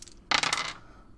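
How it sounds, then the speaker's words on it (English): Dice roll and clatter in a glass bowl during a tabletop AD&D session: a short, bright burst of rattling hits lasting about half a second, close and clear, with no one talking. "Now, this is the sound of me actually rolling dice."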